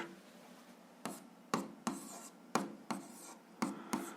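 Pen writing by hand on paper while solving an algebra problem, a series of about eight quick scratchy strokes and taps in an uneven rhythm, close and quiet with no talk.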